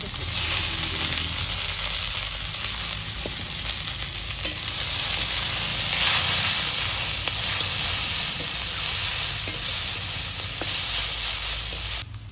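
Garlic, green chillies and leafy greens fry in a hot pan, a loud continuous sizzle and hiss lasting over twelve seconds, with occasional faint stirring clicks and no speech.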